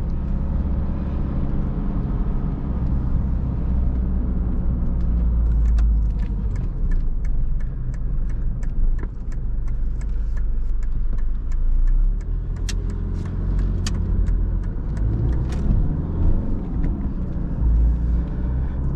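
A Mercedes W124 200D diesel car cruises steadily with a continuous low engine and road rumble, plus faint clicks and rattles from the cabin, and no talk.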